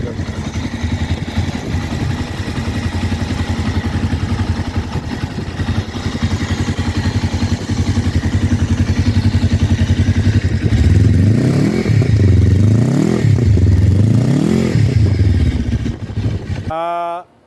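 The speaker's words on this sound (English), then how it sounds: "we expect the sound to be that of a twin cylinder." A TARO 400 Super Sport twin-cylinder motorcycle engine runs steadily close by, then rises and falls through several loud revs in its final seconds before cutting off abruptly.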